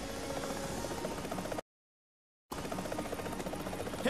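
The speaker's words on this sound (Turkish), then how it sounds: "Helikopteri gördüm, teşekkür ederim." Steady helicopter rotor and engine drone, faint and continuous, broken by a short silent gap before resuming.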